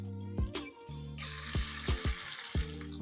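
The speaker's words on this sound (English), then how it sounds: "I'm gonna just toss this chicken in there." Cornstarch-coated chicken sizzling in a hot pan, a bright steady hiss that swells after the pieces go in, with a few low knocks and clatters on top, close and fairly loud.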